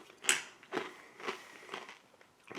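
Crunchy chewing bites of corn nuts, about five distinct crunches spaced at an even, unhurried pace, close and fairly quiet.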